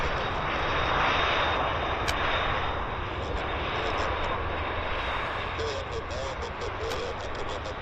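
Airplane engine at Vancouver Airport, a loud steady broadband roar that holds at the same level throughout, with faint voices underneath.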